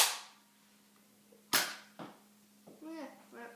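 A Nerf Zombiestrike Clearshot blaster fires foam darts indoors toward a staircase: a sharp snap opens, then another crisp pop with a short thud after, followed by faint child-like chatter near the end over a steady low hum.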